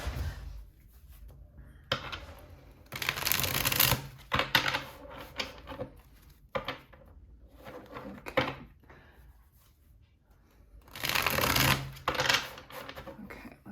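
Tarot cards being shuffled up close in bursts of riffling and sliding, separated by quieter handling noises and pauses, with no talking.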